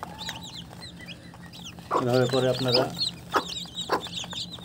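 Newly hatched desi and tiger chicken chicks peep and cheep in bright, repeated chirps throughout, close by, while someone talks over them for a stretch in the middle.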